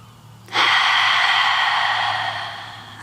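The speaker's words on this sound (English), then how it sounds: "Seal your lips and inhale through your nose." A single deep inhale through the nose during a yoga breathing exercise, close and fairly loud, holding steady for about two and a half seconds before easing off.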